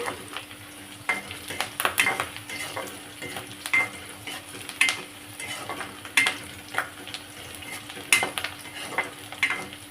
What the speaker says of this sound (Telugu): ఇది కాస్త వేయించుకుందాం ఇప్పుడు కొంచెం కరివేపాకు వేసాను